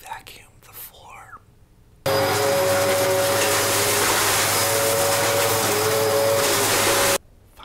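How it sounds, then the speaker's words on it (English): A vacuum cleaner switches on after a couple of seconds of soft handling noises and runs with a loud, steady whooshing roar for about five seconds before cutting off abruptly while cleaning the floor. "I'm going to have to vacuum the floor."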